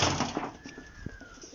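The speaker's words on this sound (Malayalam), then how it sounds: "ഇതാണ് പ്രാവുകളുടെ" Soft, low pigeon coos sound close by from a pigeon coop being opened, a few brief murmuring calls over faint background rustle.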